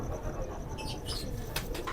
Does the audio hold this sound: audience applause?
no